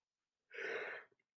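A single yawn from a person partway through a lecture on Rome, a breathy, airy exhale lasting about half a second, quiet and alone, ending with a small catch of breath.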